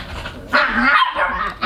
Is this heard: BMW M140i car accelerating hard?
no